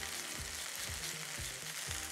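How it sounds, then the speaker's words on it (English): Steady, even sizzling of vegetables pan-frying in hot oil for lemon garlic pasta, with a few soft stirring scrapes at regular intervals; no voices. "After we've been pan frying for about 3 minutes, zest the lemon in there."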